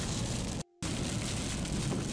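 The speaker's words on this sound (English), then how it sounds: "evening thunder showers, which can be quite violent and drop a lot of hail and rainfall on" Heavy rain pours down steadily during a violent evening thunder shower, a dense, loud hiss broken by one brief dropout, with no voices heard.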